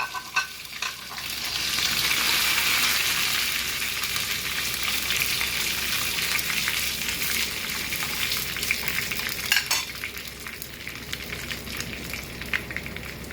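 Dried red chillies and curry leaves hit hot oil as a tempering for a mango fish curry, with a loud, close, crackling sizzle that swells after a couple of seconds and then carries on steadily, with no speech.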